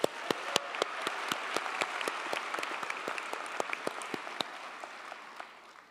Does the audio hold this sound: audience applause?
yes